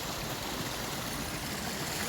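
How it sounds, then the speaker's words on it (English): The Bonsul Brook outfall pours into the River Derwent at Cromford, a dense, steady rushing of flowing water that fills the whole scene at close range without pause or voices. "this is the Bonsulbrook outfall which runs into River Derwent"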